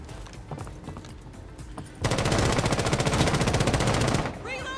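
Rapid automatic gunfire from the Rainbow Six Siege Blood Orchid video game bursts in loud and sustained for about two seconds after quieter background game noise and scattered shots, then trails off into softer sounds.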